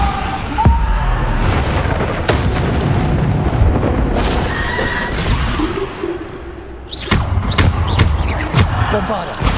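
Bombarda spell explosions in the Hogwarts Legacy video game go off as repeated loud booms with whooshes and bursts in a dense battle mix, under spell-casting shouts and other voices.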